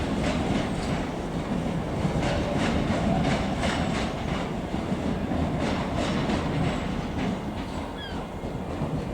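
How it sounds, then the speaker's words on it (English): A ScotRail class 385 electric train pulls out of Edinburgh Waverley station, its wheels knocking in a steady clickety-clack rhythm over a continuous rolling rumble, close and moderately loud, with a brief squeal near the end. "There goes 385027 with the 12:57, I believe, Scotrail service to Glasgow Central."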